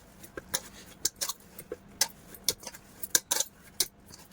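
Maida dough being mixed by hand with oil for puri, giving a series of short, sharp clicks and taps at an irregular rhythm, close and fairly quiet, with no talking.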